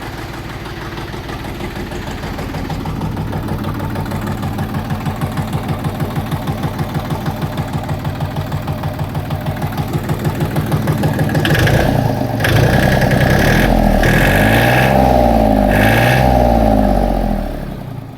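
A tractor engine idles while warming up, a steady, close, continuous throbbing that grows louder and rougher toward the end before easing off.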